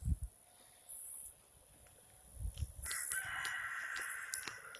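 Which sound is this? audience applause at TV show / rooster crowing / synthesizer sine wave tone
rooster crowing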